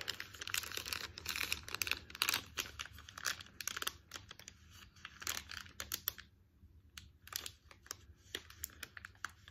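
An MRE heater bag has its top folded over, close crinkling and crumpling of plastic in quick irregular bursts, then a short pause before softer rustles resume.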